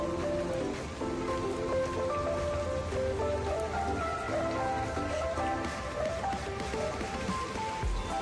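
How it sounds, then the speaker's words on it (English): Steady rain falls on the grounds of the Bali swings, a continuous dense patter and hiss under a bed of background music or voices, even in level throughout. "So it is raining a bit and it will take some time"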